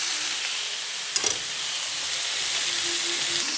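A pork chop cooks in a pan alongside vegetables, giving a steady close sizzle and frying hiss throughout with a brief clatter of stirring early on, no voice present.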